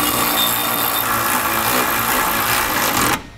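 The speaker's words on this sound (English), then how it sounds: "Now I'm going to be using a 9/16 socket and wrench to tighten up our assembly." A lock nut is run down with a 9/16 socket and wrench on an RV flat-tow air brake assembly, giving a steady dense mechanical whirr, more like a power driver than hand ratcheting, that cuts off abruptly near the end.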